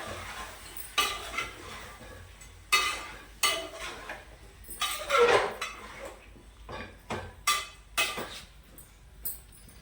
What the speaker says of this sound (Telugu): ఇప్పుడు గరిటె పెట్టి తిప్పుదామండి